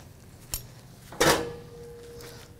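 Sandwiches for Cuban sandwiches and paninis are set into a pan, making a couple of short metallic clunks and a scrape, the second contact louder, with a faint ringing afterward in a quiet kitchen.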